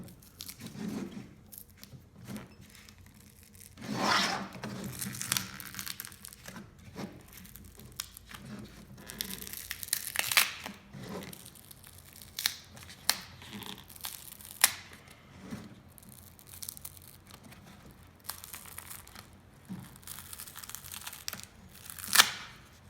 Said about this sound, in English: So, I'm just gonna gently try and peel this thing off the glass it's on.